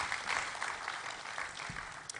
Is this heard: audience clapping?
yes